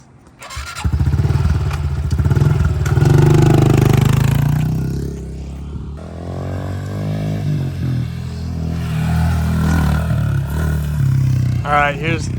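A 110cc pit bike rides along a street, its small engine buzzing loudly up close, first a sustained high rev, then easing to a rougher, lower idle with a brief rising rev near the end.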